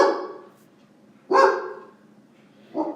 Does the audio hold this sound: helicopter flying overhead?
no